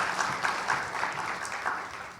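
A church congregation at a Friday worship service applauds in a steady, dense wash of clapping that carries evenly throughout the room.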